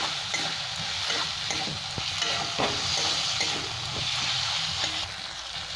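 Whole green peas fry with spices and melted tomato in a pan for a Bengali pea dal, a dense steady sizzle with scraping stirs throughout, close up and without talk.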